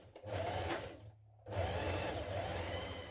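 A sewing machine runs in two bursts stitching the shoulder seams of a dress, its rapid mechanical whir loud and close, separated by a brief pause.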